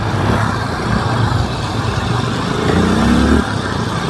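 A motorcycle cruising along a coastal road in Davao, its engine humming steadily with a rising rev near the end, loud and close with wind noise.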